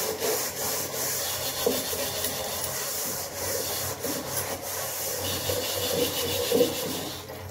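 Close, steady scrubbing of a burnt kitchen karahi, a continuous gritty scraping and rubbing with irregular strokes and small knocks, no voices over it.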